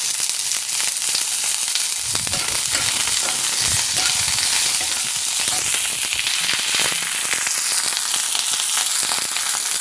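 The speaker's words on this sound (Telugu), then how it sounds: "కొంచెం జీలకర్ర వేసి వేయించుకుందాం. కొంచెం కరివేపాకు, కొంచెం ఇంగువ కూడా వేయాలి." Cumin seeds, curry leaves and asafoetida crackle in hot oil as a tempering for a coconut and raw mango chutney, loud close sizzling with sharp popping bursts throughout.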